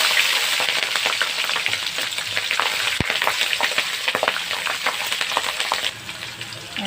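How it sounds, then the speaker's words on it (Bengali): Panch phoron spices and slit green chillies frying in hot oil, a loud, continuous crackling sizzle with scattered pops and one sharp metallic clink partway through, easing slightly toward the end, with no voices. "ফোড়ন দেবো পাঁচফোড়ন, দেবো চিরা কাঁচা লঙ্কা,"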